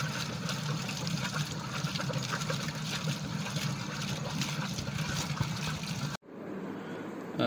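A Selkon impeller air pump pushes out a heavy, steady gush of water, a loud close churning flow that runs evenly and then cuts off abruptly before a quieter rushing tail.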